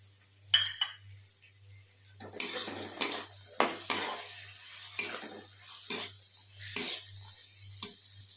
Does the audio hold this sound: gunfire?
no